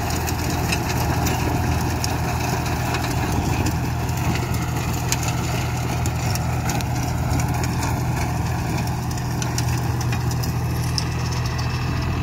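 A John Deere 5045 tractor engine, a 46 hp Power Pro model, idles steadily with a continuous low rumble that stays even and loud throughout, with no talk over it.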